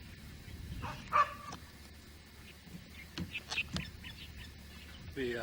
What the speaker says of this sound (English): he's barking at a wood rat nest in there